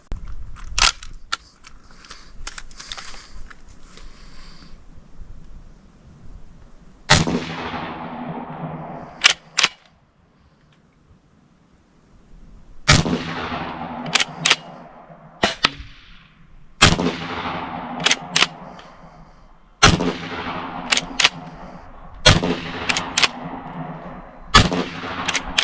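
A .45 caliber pump-action airgun fitted with an LPVO scope fires a series of sharp, loud shots outdoors, often in quick pairs, separated by pauses and faint handling sounds.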